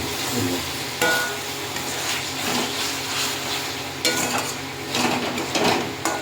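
Potatoes and fish curry are stirred with salt in a pan, with a continuous sizzle under irregular scraping strokes and a few metallic knocks from the spoon.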